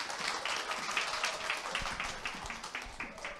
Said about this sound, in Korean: 나오실 때 환영의 박수 부탁드리겠습니다.